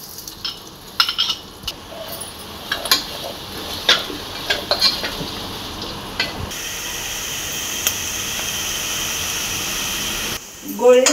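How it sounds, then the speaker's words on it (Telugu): Onions fry in hot oil in a pan, giving a steady hiss that swells into a fuller sizzle partway through. Scrapes and clinks of stirring come and go, and a voice talks over the cooking. "ఆనియన్స్ ఫ్రై చేసుకుందాం. గోల్డెన్ కలర్ వచ్చేదాకా ఫ్రై చేసుకుందాం."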